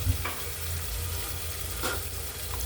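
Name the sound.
stirring beef with garlic and spices in the pan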